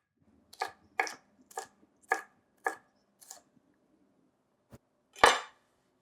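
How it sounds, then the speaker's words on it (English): A knife chops enchilada filling on a board, cutting it into strips and then bite-sized pieces: about six crisp, evenly spaced chops close by, a pause, then one sharper, louder strike. "So first I'm cutting it into strips and then into smaller bite-sized pieces."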